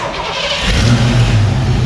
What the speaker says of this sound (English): All right, we're gonna see if this thing actually fires up.